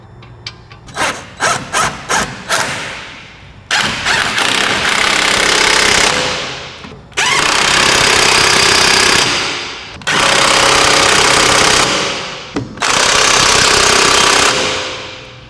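Brake caliper bracket bolts on a Toyota FRS or Subaru BRZ, driven from behind through a half-inch extension and socket by a loud pneumatic impact tool: a few short hammering bursts, then four long rattling runs close by, with no talk.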